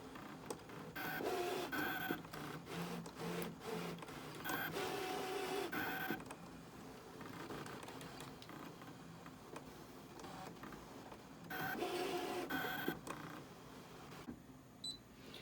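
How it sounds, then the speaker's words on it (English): A cutting machine slices a Mylar stencil, giving off quiet, printer-like motor whirs in repeated back-and-forth bursts with short ticks between passes. "Super easy if you have a cutting device or a cutting machine."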